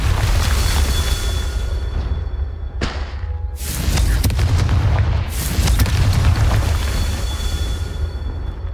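Confringo fire-spell blasts in Hogwarts Legacy, several loud booming explosions with rumbling tails over a dense game soundscape, close and heavy, no talking.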